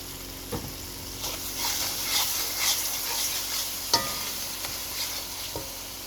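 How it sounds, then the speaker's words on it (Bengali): Chicken curry spice paste with potato, salt and tomato ketchup frying in a pan, a soft continuous sizzle broken by scraping stirs and occasional clinks of the spoon against the pan, close by and without voices. "আমার চিকেনের মশলাটা সুন্দর কষে আসছে"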